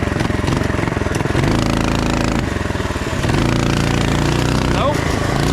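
An off-road mini quad's small engine revs loud and close during a wheelie attempt, its buzzing note rising and dropping in pitch as the throttle is opened and eased repeatedly.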